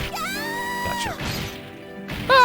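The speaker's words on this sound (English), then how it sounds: "I kicked her up against the glass." A fighter is kicked into a glass barrier in the arcade fighting game Fatal Fury 3, giving a sharp crash and smash amid game music and voice cries, with a loud burst near the end.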